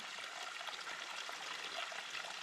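Stream water runs through a pipe at a Himalayan trekking stop, a steady hissing trickle that carries on alone and fairly faint.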